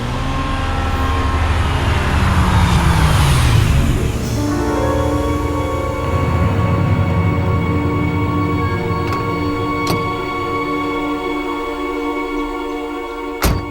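A new car's engine runs steadily and close by, with a swelling pass of engine noise early on that settles into a continuous hum, with no talk over it.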